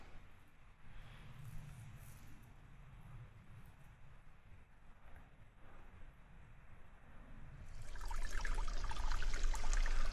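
Creek water flows along a hiking trail in Shining Rock Wilderness in Pisgah, a steady soft trickle and babble that swells into a louder, closer rush near the end, with no one talking.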